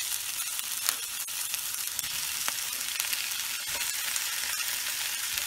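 Tomatoes sautéing with softened onions in a pan for a chana dal chutney, a steady broadband sizzle with a few stirring clicks, close and even throughout, no talking.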